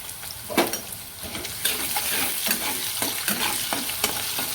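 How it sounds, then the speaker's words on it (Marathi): Sliced onion with curry leaves and salt fries in hot oil over a low flame, giving a constant close sizzle punctuated by repeated spatula scrapes against the pan. "हे पण मी गॅस बारीक करूनच भाजत आहे कांदा"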